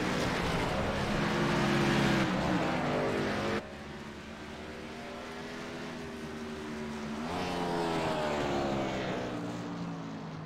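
Race cars in a Jaguar and Land Rover cup series lap Sonoma Raceway in a racing video game, with loud engines wailing and shifting pitch as they climb through the gears and pass close by, without talking.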